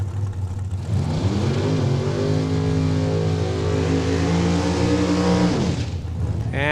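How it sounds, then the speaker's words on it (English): A race car engine revs loudly and holds a high, steady roar as it warms up its rear tires at a drag racing track in Saskatchewan, rising in pitch and then cutting off near the end. "All right, Richie Harder warming up those rear tires"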